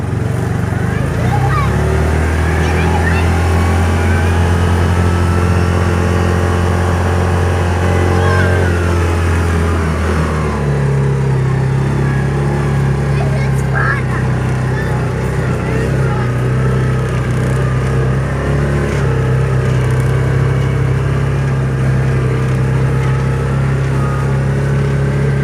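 Engine of a Yamaha Rhino 700 side-by-side drones loudly as it climbs a hill, holding a steady low revving note that shifts pitch about halfway through, with passengers' voices faintly mixed in.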